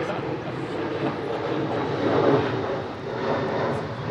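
An airliner passes overhead during a junior rugby league trial match at a suburban oval, a broad steady roar swelling and easing over several seconds with faint crowd and commentary in the background.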